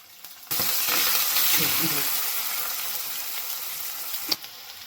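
Curry leaves and green chillies dropped into hot oil for poha, a sudden loud hiss that erupts at once and slowly settles into a steady sizzle, ending with a brief clatter.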